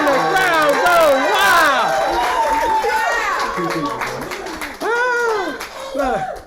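A large crowd at a live business event cheers, whoops and claps loudly and continuously, with excited voices rising over the applause throughout.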